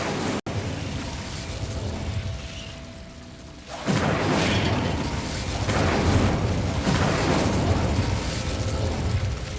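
Incendio fire spell cast repeatedly in the Hogwarts Legacy video game, heard as a burst of whooshing flame that kicks in after a quiet stretch and keeps roaring in loud, pulsing waves.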